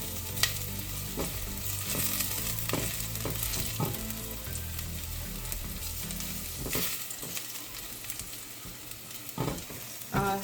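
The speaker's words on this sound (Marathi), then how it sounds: "असं करताना लसूण कधी कधी खाली चिटकू शकते, सो थोडंसं इनिशियली स्टर करत राहायचं" Garlic frying in oil in a pan while being stirred to keep it from sticking: continuous close sizzle broken by repeated spoon scrapes and clinks against the pan, no talking.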